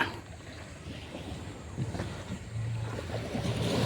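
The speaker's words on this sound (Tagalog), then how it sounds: "Sakay na tayo ng bangka." Steady wash of wind and lapping water around a moving boat at sea near Cagbalete Island, Philippines, with a low engine drone rising toward the end.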